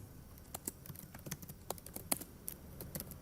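Python code being typed on a computer keyboard, with quiet, irregular clicking keystrokes in short bursts and no talk over them.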